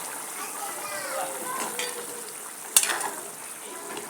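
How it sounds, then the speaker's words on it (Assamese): A pot of fish curry with tomato simmers at a rolling boil after hot water is added, a soft steady bubbling hiss with one sharp clink of a utensil midway. "গৰম পানী আছিলে যিহেতু গোটেইকৈ ভৰকৈ উতলি আহিছে একেবাৰে"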